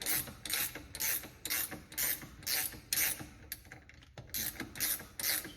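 A ratchet clicks in repeated bursts, close and loud, as it works on steering rack bolts under a Subaru BRZ, with a short pause midway before the cranking resumes.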